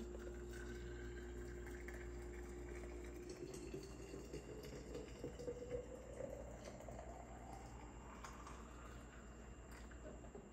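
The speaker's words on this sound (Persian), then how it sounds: "آبم جوش شد، حالا چای خوردن میکنیم" Water comes to a boil for tea, a faint, steady bubbling and hissing that holds a low hum at first, then gives way to a rising tone as the boil builds, heard quietly with no talking.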